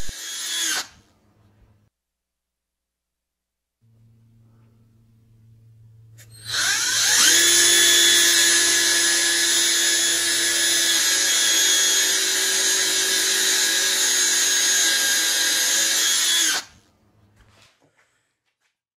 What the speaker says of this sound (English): the same size brad point drill bit that I used when I drilled the holes into the heel of the neck